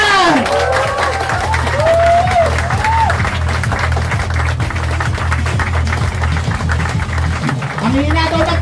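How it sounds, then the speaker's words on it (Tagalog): Loud, dense audience applause at a company presentation for the president of Ideal Prime Ventures, sustained clapping and cheering from a large crowd, with amplified voices and a rhythmic thumping bass underneath throughout. "palakpakan!"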